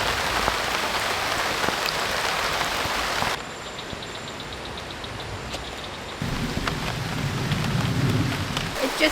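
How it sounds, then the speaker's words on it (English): Heavy rain pours steadily onto a bamboo treehouse, a dense close hiss of drops on the surface. It eases briefly before swelling again, with low rumbles like distant thunder. "It just started bucketing."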